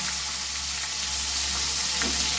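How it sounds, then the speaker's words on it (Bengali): Chopped onions fry in the oil left from fried aubergine and fish, making a steady, even sizzle at close range with a faint stir or two and no speech. "এবার ওই তেলেই পেঁয়াজ কুচি দিয়ে"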